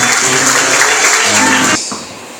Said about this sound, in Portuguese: e as palmas louvem ao Senhor.